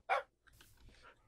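A single short, sharp bark from a Minecraft dog rings out at the start, followed by faint, quiet background sound.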